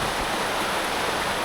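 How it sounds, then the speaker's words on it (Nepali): Heavy monsoon rain pours near the India border, a dense, steady roar of falling water with no breaks or voices. "पानी दर्के मजाले आयो है"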